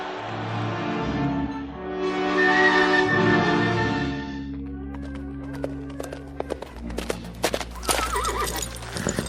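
A racehorse whinnies loudly for several seconds after a race in a radio drama scene, then fades into scattered hoof clatter, taps and background bustle.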